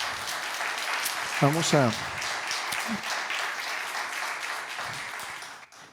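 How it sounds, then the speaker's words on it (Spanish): A church congregation applauds in a sustained burst of many hands clapping while a preacher speaks briefly over it, and the clapping fades out at the close. "Démosle un aplauso al Señor."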